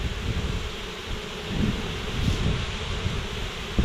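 Honey bees drone in a dense, steady buzz around an open brood nest frame in February, close to the hive with a faint wind hiss underneath.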